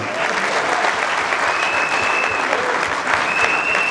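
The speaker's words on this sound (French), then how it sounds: "Applaudissez pour vous-même." Party cadres at a political seminar applauding themselves, a loud, dense wash of clapping that holds steady for several seconds, with a faint whistle or tone drifting above it.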